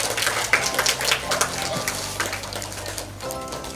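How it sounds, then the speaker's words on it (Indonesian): Schoolchildren in a primary school class clap for their classmates, a scattered burst of quick hand claps that fades into sparse taps, with a voice speaking over it. "tepuk tangan buat teman-temannya yang masih bertahan sampai saat ini"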